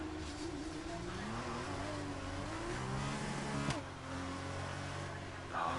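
A race car engine revving after a light touch of the throttle in a remote-driven Australia round, steady engine drone with rising and falling pitch and a brief sharp burst midway, fairly loud throughout.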